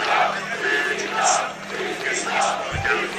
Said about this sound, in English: What an ovation here from this crowd.